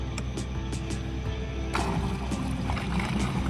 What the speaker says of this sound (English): We found this little motor in the cabin up on the hill.